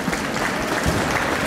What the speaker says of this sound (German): Applaus für Ilarin von Mann